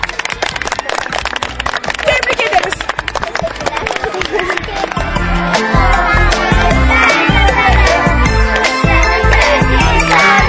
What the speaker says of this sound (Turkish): Kazanan grubu alkışlıyoruz tabii ki.